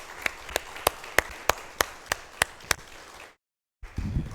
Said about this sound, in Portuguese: Merece um aplauso, né?